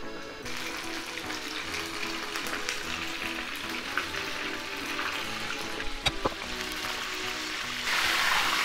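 Chicken pieces coated in starch deep-fry in oil at 180 °C with a dense, continuous crackling sizzle that stays close and steady, then swells louder near the end.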